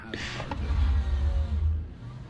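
Race car engines rumbling low and close during a formation lap in the Le Mans Ultimate racing game, swelling briefly then easing, with a faint higher whine over the deep drone.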